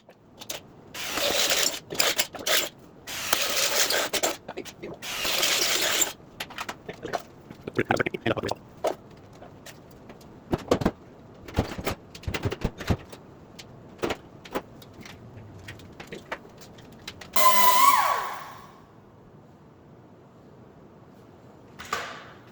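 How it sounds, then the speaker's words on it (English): A handheld zip cutter whines through material in several bursts while fabricating a cooling plenum for a Balmar alternator, with scraping and handling noises between cuts, loud and close. "Now I can cut with a zip cutter"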